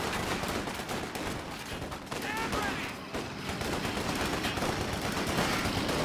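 Dense bursts of automatic gunfire and rattling shots from fire support in a Company of Heroes 2 3v3 battle, a continuous loud barrage with overlapping volleys, and a voice talking faintly underneath.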